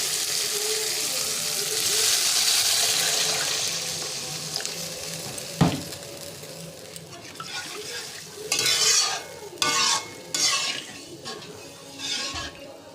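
Masala fried in oil sizzles loudly and then surges with a burst of hissing as water goes in, followed by several rhythmic bouts of spoon scraping and stirring in the pan, close and without voices.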